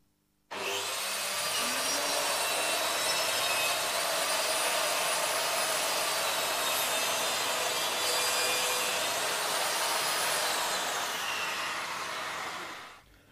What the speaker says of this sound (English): you can use the extractor even when the saw is flat